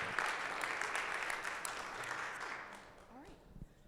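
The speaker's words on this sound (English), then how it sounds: "I think we should all give Stacy a round of applause." Conference audience applauding, steady broadband clapping at a moderate distance lasting several seconds, with a voice speaking briefly near the end.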